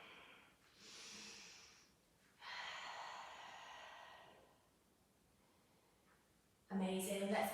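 Slow, deep breaths come from someone resting in child's pose during a yoga session: a long inhale, a longer audible exhale, a quiet pause, then a sudden stronger breath at the end, close and fairly soft.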